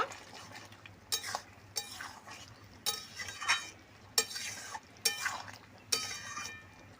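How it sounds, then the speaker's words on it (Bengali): A spoon stirs ghee into shukto in a pan, with about six faint, scraping, swishing strokes and light metallic clinks spaced around a second apart over a quiet background. "ঘিটা দিয়ে দিয়েছি খুব ভালো করে এবার মিশিয়ে নেব"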